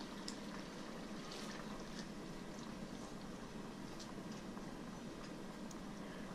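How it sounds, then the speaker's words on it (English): Tomato sauce simmers in a pan for penne alla vodka, with rendered fat in the pan. It gives a steady, soft, low bubbling hiss, faint and constant with a few light ticks and pops, and no talk. "We'll let this simmer for a few minutes."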